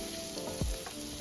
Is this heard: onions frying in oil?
yes